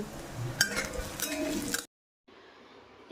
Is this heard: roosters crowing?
no